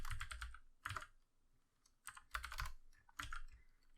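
Fast bursts of typing on a computer keyboard, clusters of quick clicks separated by short pauses, close and fairly quiet with no voices.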